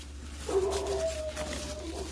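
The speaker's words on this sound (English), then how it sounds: "Oh, my stupid dog barking." Dog giving a short whining, howl-like bark in a quiet room, a single tonal cry that rises and trails off, moderately close.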